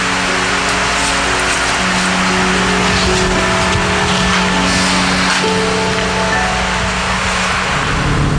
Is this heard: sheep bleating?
no